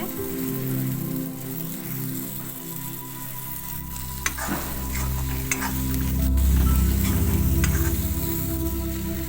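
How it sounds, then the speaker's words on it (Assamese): Potatoes frying in oil for arhar dal give a continuous close sizzle, broken by occasional clinks as a utensil stirs them. The sizzle swells louder toward the end, and no one speaks. "আলুখিনি ধুনীয়াকৈ ভজা গৈছে"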